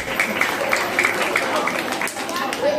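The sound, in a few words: audience applause at a teacher's day celebration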